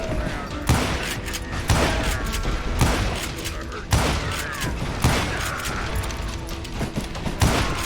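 Gunfire rings out in the Western shooter Call of Juarez: Gunslinger, loud shots cracking at a steady pace about once a second, with some talk underneath.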